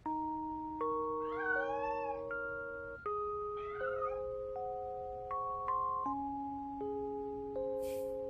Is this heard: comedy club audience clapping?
no